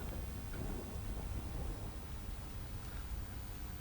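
Rain falls across Surendranagar district in Gujarat, a steady, even hiss of heavy downpour with a deep rumbling undertone and no voices.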